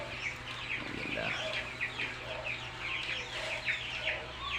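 Broiler chicks in a brooder peep and chirp in a busy, continuous chorus over a low background hum, moderately close and fairly quiet.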